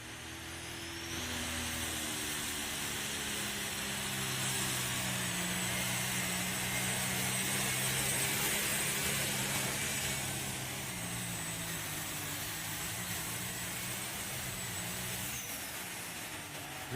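A tractor-pull machine roars for a long pass, loud and steady, with a sustained, gradually shifting engine drone that fades slightly at the end.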